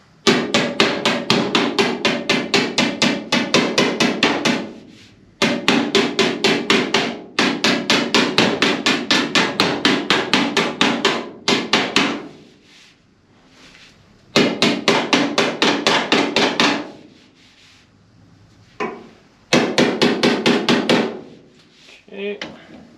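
A pick hammer drives a steel quarter panel into place on a 1955 car, using hand tools only. Rapid bursts of sharp metal blows ring loud and close, broken by short pauses.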